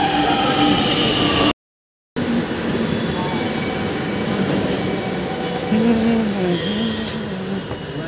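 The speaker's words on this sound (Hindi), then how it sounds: "और मेट्रो आ गई है भाई और हम रेडी हैं।" Lucknow metro train pulling into the station, a loud continuous rumble with rolling wheel noise and rising tones, a brief cut of silence early on, with people talking faintly nearby.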